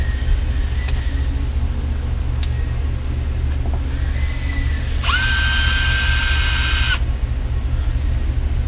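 A power tool backing screws out of a Civic Type-R steering wheel, one loud whirring burst of about two seconds that rises in pitch over a steady low hum, with no one speaking.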